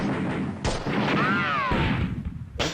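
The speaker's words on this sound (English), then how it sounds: "I'm really surprised that the infantry continue to fire." Infantry rifle and machine-gun fire from the WW2 tactical game Steel Panthers crackles in sharp bursts, with a couple of loud booming shots at the start and end and a whistling streak between them.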